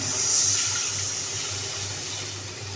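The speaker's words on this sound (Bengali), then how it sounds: "এখন দিয়ে দিব পানি।" Water is poured into a hot pan of fried gulsha fish curry with onions, giving a steady close hiss and sizzle that swells at the start and then settles to an even rush.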